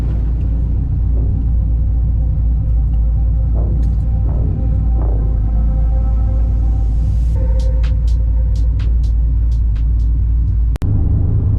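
Car driving on the road, a loud continuous low rumble of engine and tires heard from inside, with a few brief rising tones and clicks near the end and a short thump.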